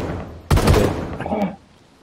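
Gunfire in DayZ at the Pavlovo Military Base: a single loud, sharp burst about half a second in, followed by a fainter tail of shots and clatter that fades out.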